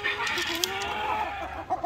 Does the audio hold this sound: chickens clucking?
yes